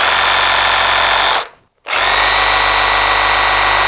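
A loud Milwaukee 18V cordless reciprocating saw buzzes steadily while cutting, cuts out for a moment, then starts up again and keeps running at full speed.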